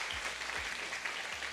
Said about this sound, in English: I would give her a round of applause, please, because she put this on.